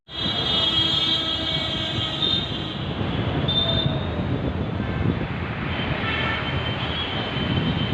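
A Kolkata Metro train running out of Howrah, a steady loud rumble of wheels on rail with occasional high squeals and whines, continuous and close throughout, no talk.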